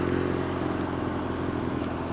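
A BMW R nineT Scrambler motorcycle engine hums steadily while riding on a rainy road, a constant mid-loud drone with road and wind rush and no talking.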